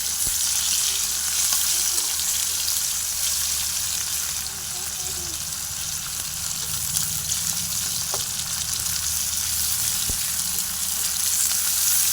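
Tilapia fish frying in a pan, with a constant close sizzle of oil that runs unbroken and fairly loud throughout.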